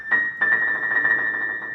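Musical trills imitating a buzzing bee in a classical art song, a sustained high wavering tone with fluttering pulses, soft and continuous, no talking.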